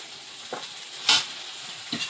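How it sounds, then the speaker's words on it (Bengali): Spice paste of cumin, coriander, chilli powder, green chilli paste and pepper frying for mutton curry in a pot, stirred in a few faint scrapes with a brief sizzling burst midway, close and soft. "এবারে এই পাঁচটা দিয়ে একটু একটু জল দিয়ে দিই মশলাটা ভালো করে কষিয়ে নেব"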